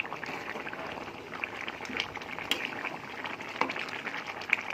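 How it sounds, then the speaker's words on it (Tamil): A pot of chicken curry bubbling at a low, steady simmer, with soft pops and gurgles close by and occasional light clinks. "பாருங்க, நல்லா கொதிக்க ஆரம்பிச்சிச்சு."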